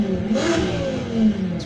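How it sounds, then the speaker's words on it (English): Audi R8 V10 Performance engine and exhaust revving in the racing game Need for Speed Heat, a loud, close, sustained mid-pitched roar with a swell partway through. "So, exhaust sound."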